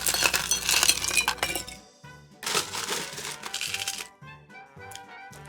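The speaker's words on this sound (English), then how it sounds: "Add some ice." Ice cubes clinking and clattering into a cocktail glass holding vodka for a Greyhound, two bright bursts of glassy rattling with small knocks as the cubes settle, close and without speech.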